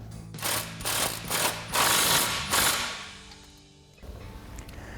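A hand ratchet tightens a bolt on a fog light bracket of a Rugged Ridge Venator front bumper on a Jeep Gladiator JT. It gives several bursts of rapid clicking close to the microphone, then a quieter pause and a short final stretch.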